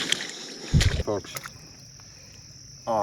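Cicadas drone steadily beside a river in the Missouri Ozarks during fly fishing, a constant high buzz in the background, while someone speaks briefly and water splashes and thumps occur nearby.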